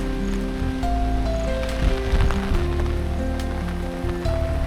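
Heavy rain and strong wind on a hilltop by an old bungalow, a dense, steady roar of rain and gusts that runs without a break throughout.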